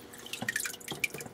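Water dripping and splashing through a valve on a stream table pump, a few distinct close drips over a quiet wet background.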